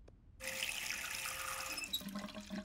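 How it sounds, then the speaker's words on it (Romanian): Water runs from a tap in a cartoon as a character goes to wash. After a brief quiet start, a steady, loud gush of running water pours for about a second and a half, then cuts off, leaving a few small knocks. "mă duc să mă spăl"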